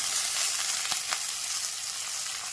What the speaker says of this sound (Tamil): கீரை போட்டு வதக்குவோம். கீரை நல்லா வதக்கி விடலாம்.